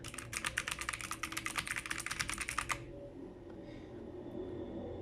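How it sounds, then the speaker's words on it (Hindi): Rapid keystrokes on a budget full mechanical keyboard, close and crisp, clatter steadily for nearly three seconds and then stop, leaving only a low room hum. "ये फुल मैकेनिकल कीबोर्ड। आप इसकी आवाज़ चेक कर सकते हैं।"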